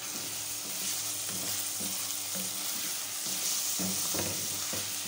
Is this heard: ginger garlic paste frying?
yes